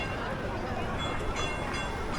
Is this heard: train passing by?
yes